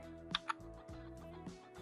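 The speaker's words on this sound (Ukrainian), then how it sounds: "Натискаємо на клавіатурі клавішу 1." A few distinct computer keyboard key presses click sharply, two close together near the start and another later, over a steady background hum.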